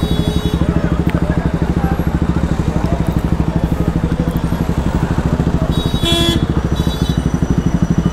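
Motorcycles performing tyre-to-tyre cutting stunts at a Dussehra crowd rumble steadily and close by, with a continuous engine drone and a brief horn toot partway through.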